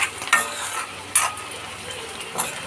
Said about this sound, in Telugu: సో ఇంకా ఫ్రై కావాలి మంచిగా ఇలా మధ్య మధ్యలో తిప్పుకోవటం వల్ల మనకి అడుగు అనేది అంటకుండా ఉంటుంది